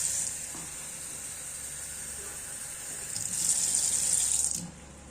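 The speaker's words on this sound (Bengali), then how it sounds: "এই জলটা প্রথমে দিয়ে দেবো, পুরো জলটাই আগে দিয়ে দেবো।" Water pours into a pan of fried fish for a fish curry, making a steady hissing sizzle that swells louder near the end and then cuts off.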